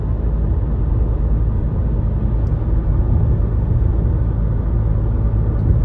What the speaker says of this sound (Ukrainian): Їдемо спокійно, не спіша 90 км на годину.